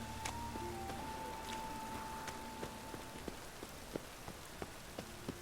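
Rain falls in a town in The Witcher 3 Wild Hunt, a soft steady patter of drops on surfaces with occasional sharper drips, faint and continuous beneath a low sustained tone and no speech.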